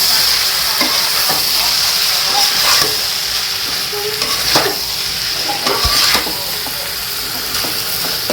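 Beef tripe and spices hit a hot pan with a loud, steady sizzle and a hissing crackle, close up, with occasional scraping from stirring throughout.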